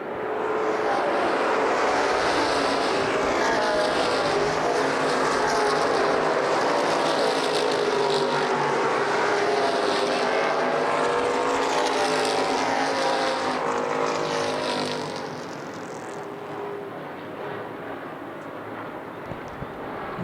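Street stock race cars roaring around Lucas Oil Raceway in Indianapolis during a 2011 CRA race, a loud sustained blend of engines that swells and then drops to a quieter, more distant drone.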